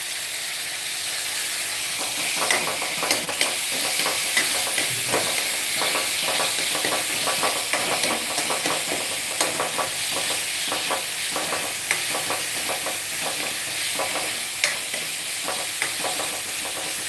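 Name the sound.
sautéing tomatoes in a pan, stirring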